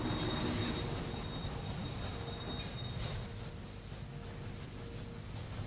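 Many trains running along a very busy rail line in the Railway Empire video game, with a steady rumble of wagons and faint wheel squeal continuing throughout at moderate, distant level, no talk.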